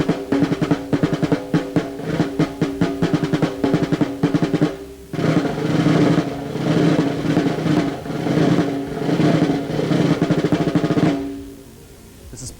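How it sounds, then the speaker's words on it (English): A very old snare drum played in a marching style: dense, rapid rolls and crisp repeated strokes, loud and close, pause briefly, return in a long buzzing passage and then stop abruptly, with no voices. "Played on a very old snare drum in a marching style"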